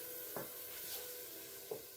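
Ingredients for a Mexican barbacoa soup sauté in a pot with a faint, steady sizzle and two soft scrapes of a spoon stirring, quiet and close.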